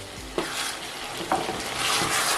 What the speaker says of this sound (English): the oil floating, the pepper is fried